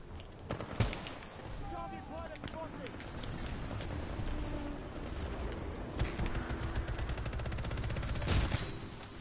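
Gunfire from a video game pops in a few sharp bursts and scattered shots over a busy game soundscape, while a player talks throughout.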